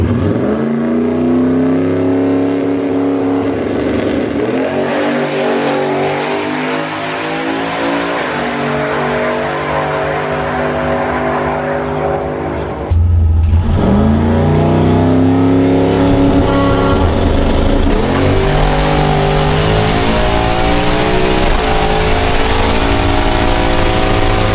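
A race car makes a test pass on a drag strip, its engine roaring loudly through rising gear pulls, dropping briefly at a shift, then charging again hard and close, with no voices.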